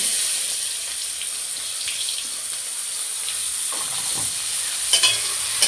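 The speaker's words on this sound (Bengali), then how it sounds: "এটাকে ভালোভাবে লাল লাল করে ভেজে নেব।" Chopped onions frying in a pan for a fish roe curry, a continuous bright hiss of sizzling oil close by, with a few soft stirring scrapes and taps, no voices.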